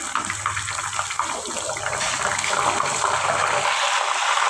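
A little water hits a hot pan of potato fry with a hissing, bubbling sizzle that builds and continues steadily, with a low rumble underneath early on.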